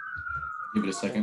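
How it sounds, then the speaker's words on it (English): A fire engine siren from a fire station across the street holds one high pitch throughout, moderately loud, while a person talks over it near the end. "sorry about the sirens."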